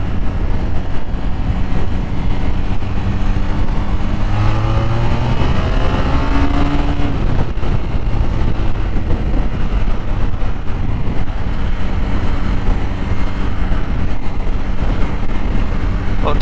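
A Honda VF500F motorcycle rides along a road, its engine a steady droning hum under constant wind rush, with a brief rising rev in the middle.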